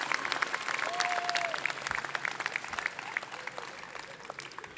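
A commencement audience at a 2022 law college graduation claps steadily, a broad crowd applause that stays fairly even and slowly eases off.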